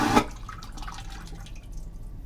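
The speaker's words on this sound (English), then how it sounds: "toilet must be obligatory toilet flushed, because on a ship, as like a plane and some trains, it does not sound like a normal house flush." A cruise ship cabin's suction vacuum toilet flushes with a loud, sharp whoosh at the start, then fades into a lingering hiss and rush that tapers off over about two seconds, close by.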